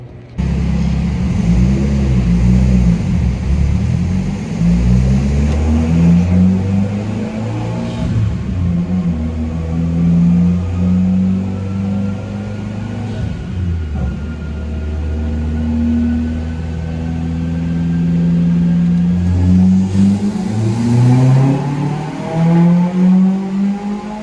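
A flex fuel Mitsubishi Evo X engine revs hard on a dynamometer, its loud, close drone rising and falling in pitch through repeated pulls with no voices.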